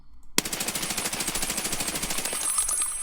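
Rapid automatic gunfire from a rifle in Escape from Tarkov, fired crouched while fighting recoil: a sustained burst of evenly spaced sharp shots lasting about three seconds, loud and close, with no talking.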